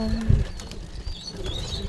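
A pigeon gives a low coo, then soft bird movement and faint fluttering follow in a quiet setting.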